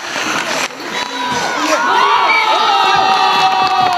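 A crowd of about twenty hockey fans cheers and shouts loudly and continuously at a friendly amateur ice hockey match at a rink in Vuktyl, with excited high voices rising above the din.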